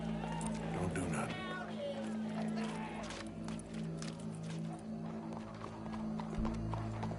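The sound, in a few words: horse hooves clip-clopping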